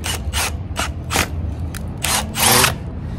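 A power tool drives a screw into a railing post during an onsite repair, running in several short, sharp bursts with brief pauses between them, close and fairly loud.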